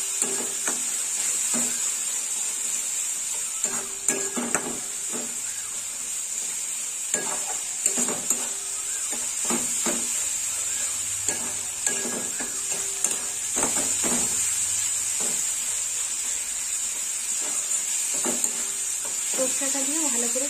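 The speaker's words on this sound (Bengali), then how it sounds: "সর্ষেটা দিয়ে ভালো করে কষে নেব।" Mustard paste sizzles in hot oil in a pan for a Bhola fish curry, giving a steady bright hiss. A spoon scrapes and stirs through it in repeated irregular strokes, close up.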